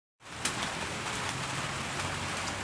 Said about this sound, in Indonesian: Dan ini hujan turun lagi, tadi sudah reda sebenarnya.